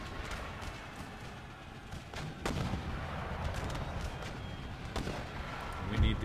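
Musket and cannon fire rumble through a battle in Empire Total War, with scattered booming shots and a louder blast near the end over a low din, faint and fairly distant.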